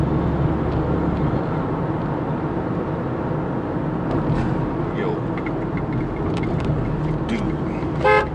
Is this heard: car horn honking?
yes